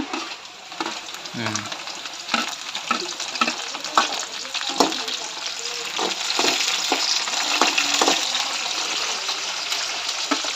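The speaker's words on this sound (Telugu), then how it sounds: "ఆనియన్స్ అయితే ఈ విధంగా అయినాయి ఇప్పుడు పచ్చిమిరపకాయలు వేసుకుంటా అన్న" Green chillies added to onions frying in oil for a village-style mutton curry, sizzling steadily and close with a constant crackling hiss, broken by repeated scrapes and clinks of a stirring spoon.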